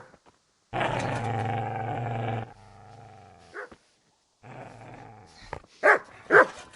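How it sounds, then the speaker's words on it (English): A dog growls long and deep, then gives a few sharp barks and snarls in a medieval role-playing game, loud and close with short pauses between outbursts. "Get away, you mutt!"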